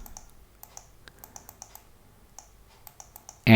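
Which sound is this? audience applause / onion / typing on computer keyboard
typing on computer keyboard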